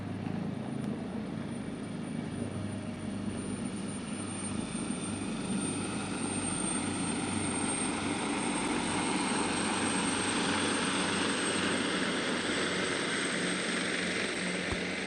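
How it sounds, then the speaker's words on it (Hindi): A Pakistan Air Force AgustaWestland AW139 helicopter flies over a Pakistan Day armed forces parade, giving a steady, loud rotor and engine roar that holds evenly for about fifteen seconds with no talk. "एयरफोर्स का ऑगस्टा वेस्टलैंड 139 हेलीकॉप्टर।"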